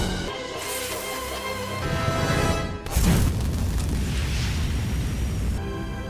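Tonal background music plays, then a sharp firecracker bang bursts out midway, trailing into a hissing, crackling wash that lingers under the continuing sound.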